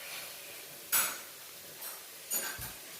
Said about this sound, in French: si vous entendez un petit peu de bruit, c'est mon fils qui fait la vaisselle